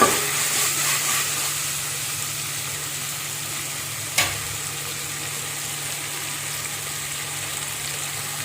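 Tomatoes sautéing lightly in a pan for coconut milk rice give a continuous close hissing sizzle, with a single sharp clack of a utensil partway through.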